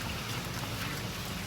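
Heavy rain falls on a road near a diploma college in Karwar, a dense, even hiss of downpour that stays faint and steady with no talk.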